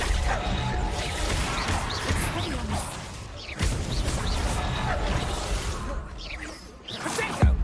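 Whooshing fire-spell casts and crashing impacts during a Hogwarts Legacy duel, recurring in bursts amid game music and effects, with some voice in the mix.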